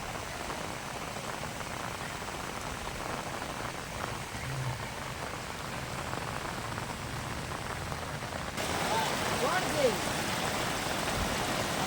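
Heavy downpour over the Ghogha area, a steady broadband hiss of rain on surfaces that runs the whole time and grows a little louder toward the end, with faint background sounds.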